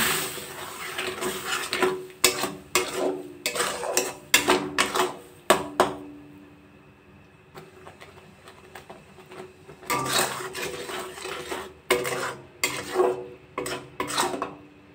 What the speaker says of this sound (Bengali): কড়াইয়ের মধ্যে আমের পাল্পটা চিনিটা দিয়ে দেবো। আমের পাল্পটা চিনি দিয়ে দিলাম। এবার এটাকে একটু নাড়াচাড়া করব।